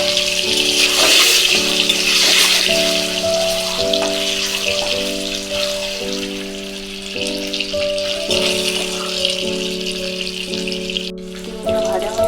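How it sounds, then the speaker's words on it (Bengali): Eggs frying in hot oil give a steady crackling sizzle throughout, partly covered by background music playing with a repeating melody. "ডিমগুলো ভেজে নেব।"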